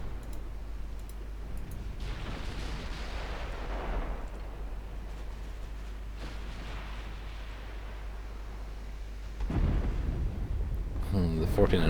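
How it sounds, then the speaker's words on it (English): Battleship 14-inch naval guns firing in the video game Ultimate Admiral Dreadnoughts, a series of deep booming blasts with rumbling tails over constant low battle noise, ending in a heavier, louder salvo. "The 14-inch guns certainly are doing things"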